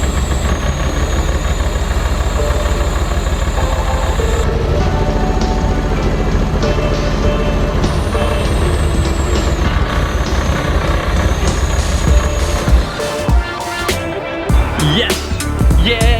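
The engine of a rebuilt, once-wrecked Ferrari replica kit car runs loud and close, a continuous rumbling idle with voices over it.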